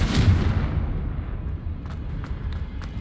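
A Confringo fire spell blast in Hogwarts Legacy erupts as a deep, heavy boom that fades into a rumbling tail, followed by a few faint, crisp ticks.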